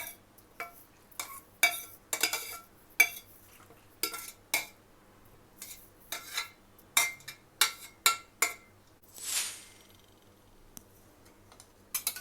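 Papaya salad being tossed with dressing in a bowl, close, irregular clinks and scrapes of a utensil against the bowl in quick clusters, then a brief soft swish near the end.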